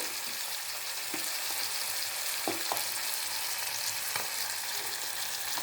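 Ginger garlic paste fries in a pan for a curry, giving a constant bright sizzle with a few soft stirring knocks; near and unbroken, with no talking.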